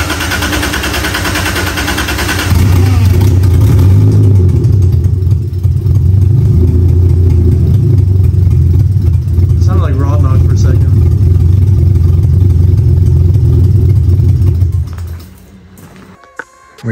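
A 2JZ engine in a Nissan 300ZX cranks and catches, then settles into a loud, steady rumbling idle with slight wavering before cutting off near the end, with a voice briefly audible over it.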